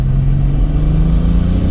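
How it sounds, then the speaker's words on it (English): A loud, close turbocharged VR5 car engine drones steadily under boost, its deep rumble holding an even, throaty tone throughout. "this car might be one of the best sounding turbo cars of all time"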